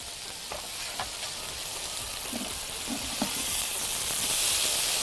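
Onions cooking with sugar in a pan for smash burgers give off a steady, close hiss and sizzle that builds slightly toward the end, with occasional stirring taps and no speech.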